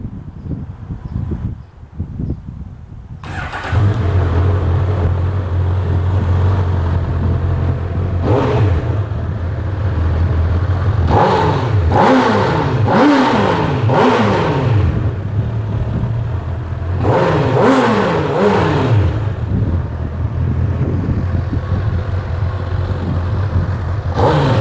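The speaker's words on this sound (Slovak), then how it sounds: "tak asi si ju aj naštartujeme," A 2021 Honda CB1000R Black Edition motorcycle engine cranks and catches, settles into a steady idle, then revs sharply several times in quick clusters before dropping back to idle, loud and close.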